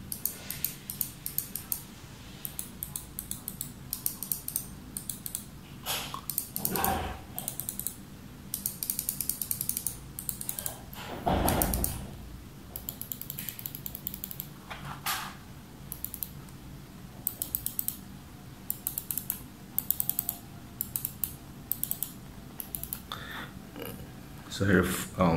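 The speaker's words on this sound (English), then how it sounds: "You can hear the button click sound." Sharp, crisp button clicks from a G-Wolves Skoll gaming mouse, pressed one at a time in irregular bursts with short pauses, close and distinct, with a voice speaking now and then between them.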